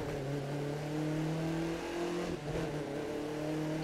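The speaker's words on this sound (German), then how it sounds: "Warte, bring den Wagen unter Kontrolle." A car engine revs and drones while driving in the racing video game The Crew 2, a steady mid-pitched motor tone rising and dipping briefly with no talk over it.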